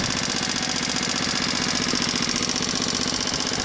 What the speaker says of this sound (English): the engine is running continuously